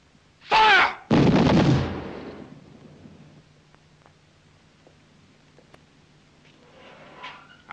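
Two loud, close gunshot blasts from a firing squad volley in a wartime execution, a sharp first crack followed almost at once by a longer booming report that decays into quiet, with faint distant sounds afterward.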